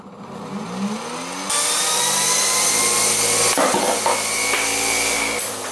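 A motor in a LEGO bolt gun spins up near its maximum speed, a loud, close, high whine that jumps sharply in intensity, holds a steady screaming pitch, then shifts with a brief clatter before continuing.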